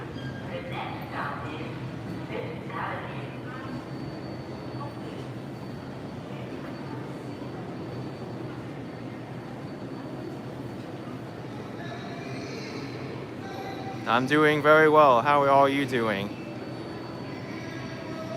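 A Number 7 subway train leaving a crowded New York City station rumbles steadily with mechanical noise and some screeching, while a person speaks briefly and nearby voices chatter.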